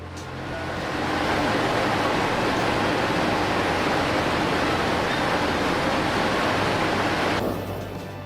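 Water pours continuously through large washing tanks full of sprouts, a loud, dense, steady rushing that swells in over the first second and holds unbroken, with no voices.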